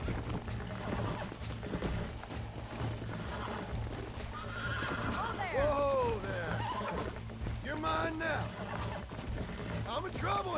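Horse in Red Dead Redemption whinnying repeatedly over steady clip-clopping hooves and game ambience, with someone talking throughout.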